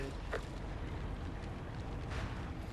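Rumbling artillery blasts from the PS3 shooter MAG, low and muffled, rolling in a couple of heavy bursts over a constant background roar.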